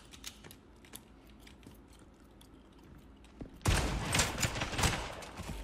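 Rapid bursts of gunfire ring out in the shooter game Spectre Divide. Faint clicks come first, then a loud, dense volley takes over for the last couple of seconds.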